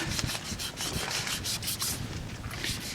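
Horsetail reed, or scouring rush, is rubbed hard against a surface to scour it clean, making a dense, close, rhythmic abrasive scratching with repeated strokes and no voices.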